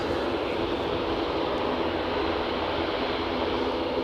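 Turboprop aircraft engine near Aberdeen heliport, a steady broadband drone with a continuous roar that holds constant, moderately loud and unbroken, with no voices.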